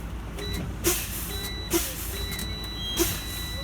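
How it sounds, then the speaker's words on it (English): A truck's air brakes are fanned until the low air warning buzzer sounds: repeated sharp bursts of released air come at a steady pace over a running engine idle, with a thin, high tone audible between them. "fan my brakes until my light and buzzer come on"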